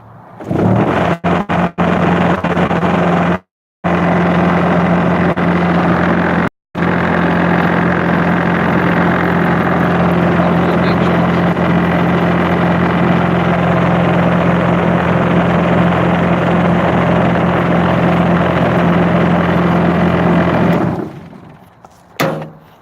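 A motorized rock screen sifting dirt runs with a loud, continuous mechanical roar and a steady low hum. Two brief dropouts break it early on before it drones on evenly, then fades at the end, with no talking.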